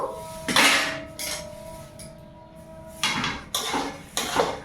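Semolina (suji) cooks in a pan as a utensil repeatedly scrapes and clanks against the metal, in irregular close bursts separated by a low steady hum, with no talking.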